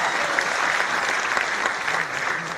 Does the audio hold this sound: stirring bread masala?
no